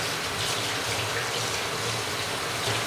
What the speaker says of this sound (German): Das halte ich jetzt einmal ganz kurz unter kaltem, fließendem Wasser.